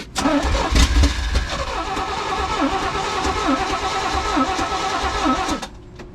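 A 1980s square body truck with a flooded engine cranks and catches, then runs roughly at a steady idle for several seconds before cutting off, loud and close with no talking.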